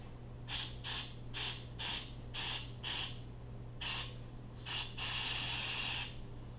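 A nozzle blasting compressed air to clean a car amplifier from a 2007 MINI Convertible Harman Kardon system: about eight short, evenly spaced hissing bursts followed by one longer blast, close up over a low steady hum.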